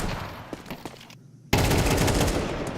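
Rapid AK rifle fire from a Counter-Strike match, a dense loud burst that cuts in after a short silent gap and rattles on continuously, with scattered shots and game noise before it.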